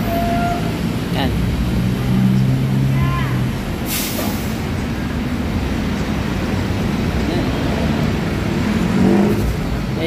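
A jeepney passes on a busy Antipolo road among buses. Engine rumble and traffic noise run throughout, with a brief hiss of air brakes partway through and voices talking now and then.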